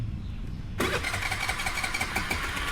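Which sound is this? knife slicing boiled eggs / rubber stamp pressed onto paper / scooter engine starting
scooter engine starting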